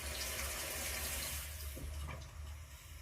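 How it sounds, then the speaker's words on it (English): Water runs steadily from a bathroom sink faucet after a P-trap replacement, a close, continuous hiss and splash that thins slightly toward the end. "Now we can turn our water on"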